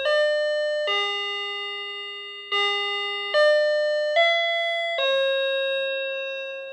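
An electronic door chime steps through a slow sequence of sustained, bell-like tones, each note ringing and fading before the next, clear and close.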